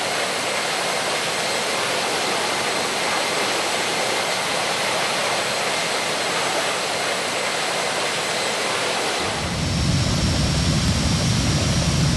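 Airliner jet engines roaring at full power during takeoff at Athens International Airport, a loud, steady, wide rushing roar that shifts to a deeper, heavier rumble near the end.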